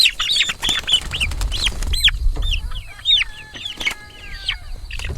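Cornish cross chickens and laying hens cluck and squawk in a busy, overlapping chorus close by, with a steady low rumble underneath and occasional sharper calls rising above.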